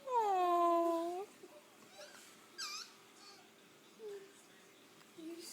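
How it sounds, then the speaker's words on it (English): A puppy gives a clear, high wavering whimper-howl up close, then falls quiet apart from a few faint short whines and yips, with soft voices in a home nearby. "It's a puppy."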